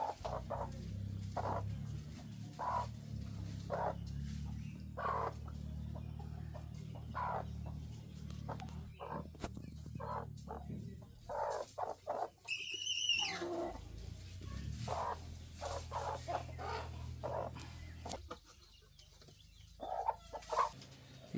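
A brooding hen brought to a farm to sit on eggs clucks in a steady run of soft, low, repeated calls, with a rooster-like crow rising briefly in the middle and faint farmyard noise behind.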